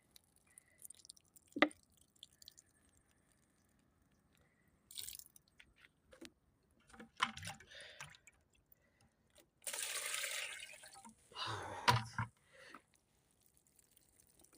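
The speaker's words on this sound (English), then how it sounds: "that's what I'm using to water this bed." Water poured onto a prepared garden bed in scattered bursts, with short drips, splashes and a couple of longer pours separated by quiet gaps.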